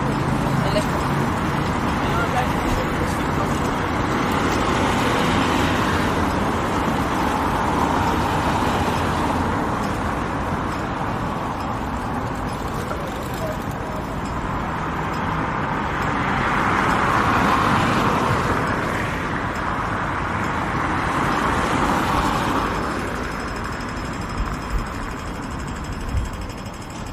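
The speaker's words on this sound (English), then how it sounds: "You hear cars starting, cars driving by, people on a bike passing by, and the steady beat from the red light and green light for the pedestrians." Busy roundabout traffic with cars starting and driving past, bicycles going by, and a steady pedestrian crossing signal beat, all forming a continuous mid-level road wash that swells and fades as vehicles pass.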